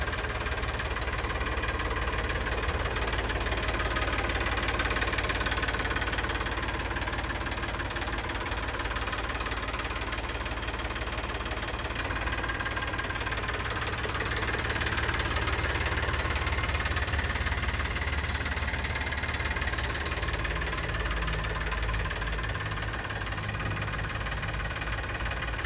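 Eicher 551 tractor, 2022 model, idling steadily with a constant low diesel rumble and a faint knocking texture, continuous and fairly loud with no talk throughout.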